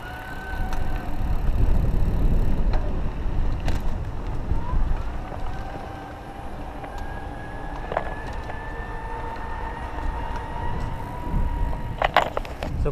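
A ProdecoTech Titanio 29er electric bike's motor whines while the rider pedals outdoors, a faint, thin high-pitched tone that rises slowly under heavy wind rumble and road noise.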